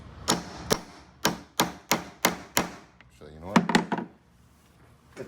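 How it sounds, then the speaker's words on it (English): Seven sharp, evenly spaced taps of an engineer's hammer driving out the wheel axle of a Pelican 1615 Air case, close and crisp, followed by a short burst of speech. "I'm just gonna tap it out the rest of the way."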